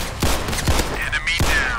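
Barrett rifle fire in the Roblox game Criminality: three sharp, booming shots spaced roughly half a second apart, close and loud, with faint ringing after each.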